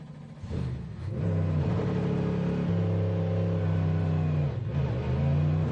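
A Ford Mustang GT3 race car pulls out of its pit box during the Le Mans 24 Hours, engine revving loud and steady through upshifts with a sustained mid-pitched roar, no voices.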